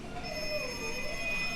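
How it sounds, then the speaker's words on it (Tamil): A phone rings in the Payback 2 mobile game, a thin electronic tone sustained over a low background hum, faint and steady with no voices. "சரி, ஃபோன் அடிக்குது, எடுப்போம்."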